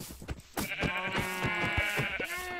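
Minecraft sheep bleat in the game, a run of wavering, nasal cries following one another closely, loud and up front with no talking over them.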